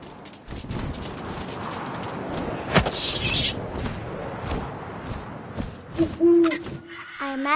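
Owl hoots in What Remains of Edith Finch, a single clear hoot near the middle over a steady windy, rustling game ambience, with a few soft thuds and some faint tonal chirps near the end.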